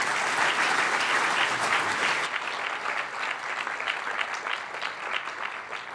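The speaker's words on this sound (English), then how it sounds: "a warm round of applause for my esteemed panelists today" An audience applauds panelists at a conference session on capital markets: a dense, sustained round of clapping that stays loud for about two seconds, then continues slightly softer with distinct individual claps standing out.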